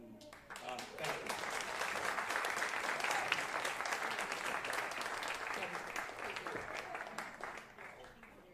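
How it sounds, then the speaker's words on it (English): Audience applause at a documentary screening event, a dense sustained wash of clapping that swells in within the first second, holds steady and loud, then slowly thins toward the end. "let's have another round of applause"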